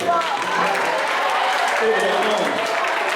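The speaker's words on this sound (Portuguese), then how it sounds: "Agora uma salva de palmas para todos vocês." Audience at a study-techniques and memorization lecture applauding steadily throughout, a dense continuous patter of many hands with voices mixed in.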